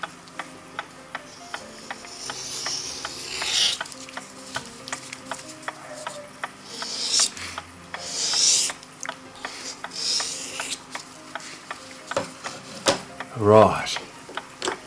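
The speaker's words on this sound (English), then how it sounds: "Now I'll buff it a couple of times with a 1200 grit stick to get it smooth." A clock part from a Gilbert grape kitchen clock is buffed by hand with a 1200 grit stick: quick, close rasping and ticking strokes in irregular bursts, with a few brief clinks of metal.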